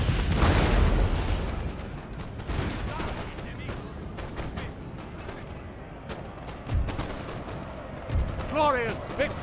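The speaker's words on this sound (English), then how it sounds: "Artillery!" Cannon artillery booms in a Napoleon: Total War battle, a heavy blast at the start followed by scattered distant gunfire and crackling, with shouted in-game voices near the end.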